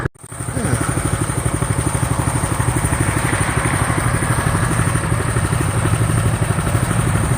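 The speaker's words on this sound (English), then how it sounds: "I'm going to turn this little bike around and go the other way." A Coleman Powersports CT200U-EX mini bike engine runs steadily close by, a continuous, rhythmic chugging putter that holds an even level throughout.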